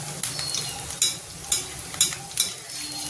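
Spinach pakoras sizzling in hot oil with a steady frying hiss, as oil is ladled over them in a rhythmic series of about six splashing scoops, close and alone.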